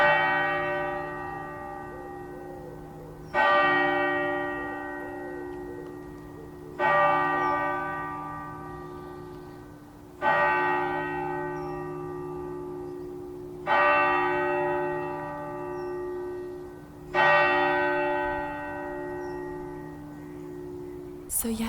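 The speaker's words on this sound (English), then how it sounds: "As you can hear as well, the cathedral bells are currently chiming." Durham Cathedral's church bells chime in a series of six loud, ringing strikes about every three and a half seconds, each one ringing on with a long, slowly fading hum that overlaps the next.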